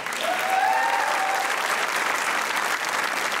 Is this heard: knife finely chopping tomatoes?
no